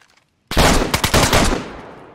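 A sudden close burst of automatic gunfire in DayZ follows near silence, about eight rapid loud shots that fade into a ringing tail.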